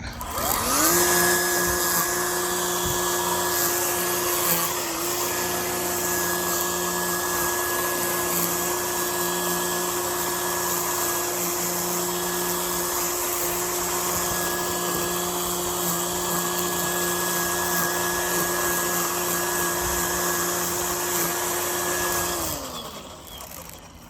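A Ryobi 40V brushless carbon fiber string trimmer cuts grass, its motor winding up to a loud, steady high whine that holds evenly for about twenty seconds before spinning down.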